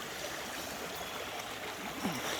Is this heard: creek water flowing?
yes